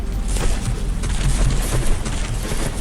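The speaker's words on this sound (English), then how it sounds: "it's not going to be able to withstand that barrage of explosions for too long" Dense, rapid booms and shell explosions from a battleship battle in From The Depths, a continuous rumbling barrage of overlapping detonations at a fairly loud level.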